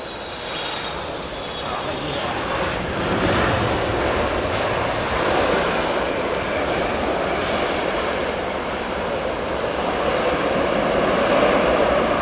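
A China Eastern airliner landing at London Heathrow, a loud sustained jet engine roar with broadband rumble that holds steady throughout.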